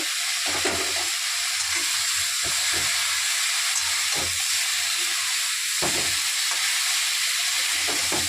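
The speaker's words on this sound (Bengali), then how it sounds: "এগুলো দিয়ে ভালো করে ব্রোকলিটা আবার আমি ভেজে নেব" Broccoli fries in a pan with chopped onion, green chili and tomato, a steady loud sizzle and hiss throughout, broken by a few stirring scrapes, with no talking.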